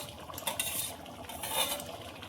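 Fried capsicum is stirred into a milk paneer curry, with soft scraping and clinking of a spoon against the pan over a faint, low sizzle. The sound is quiet and close, and no one speaks.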